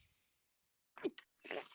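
A single sharp sneeze close by, followed moments later by a brief burst of breathy noise.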